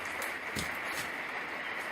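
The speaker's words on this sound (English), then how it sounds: "that noise you hear, by the way, is rain" Steady, soft rain hiss with no talking, a faint continuous wash of noise in the background.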